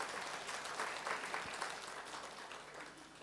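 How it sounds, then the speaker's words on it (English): An audience at an Atomy product presentation gives a short round of applause, a soft, distant wash of clapping that fades slightly over about three seconds. "Give Atomy a round of applause."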